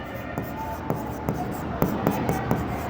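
Pen strokes writing an accounting entry on a board in a classroom lesson, a row of short, evenly spaced taps and scratches over a steady room hum.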